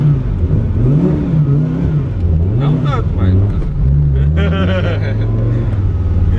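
Fiat Marea Turbo tuned to 600 hp revving hard and loud, its engine note rising and falling in uneven bursts with a steady rumble underneath, while someone talks over it.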